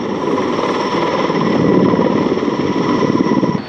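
Mi-26 heavy-lift helicopter with twin 11,400 HP engines, a loud, steady, close throbbing rotor and turbine roar with rapid chopping pulses, sustained throughout and unaccompanied by speech.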